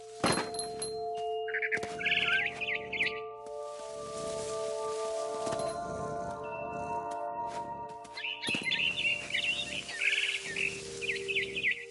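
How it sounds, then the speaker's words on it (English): A barn swallow chirps in quick twittering bursts from the video game What Remains of Edith Finch, its calls coming in two clusters over soft rustles, thumps and a faint ambient hum. "Then I heard chirping outside my window. It was a barn swallow going back to her nest."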